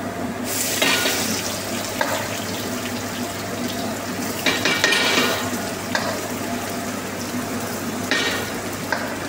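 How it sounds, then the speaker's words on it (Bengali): Onions and garlic frying in hot oil in a pan, a loud continuous hiss of sizzling with bursts of scraping as the pieces are stirred. "তো পেঁয়াজ একটু ভুনে নেবো।"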